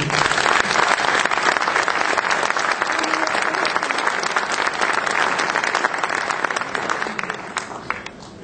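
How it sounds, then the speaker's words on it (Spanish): Sustained, loud applause fills a hall at a public forum on electric energy as the audience claps for a speaker. The dense, even roar of many hands runs for about eight seconds without voices. "Me parece que merece un fuerte aplauso."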